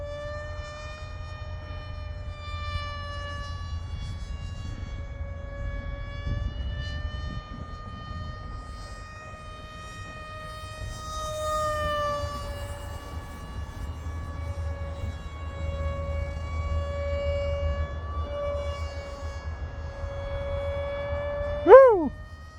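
Steady electric motor whine of a Zagi RC flying wing overhead, a sustained tonal hum that drifts slightly in pitch, rising sharply in a quick swoop near the end as the plane passes close.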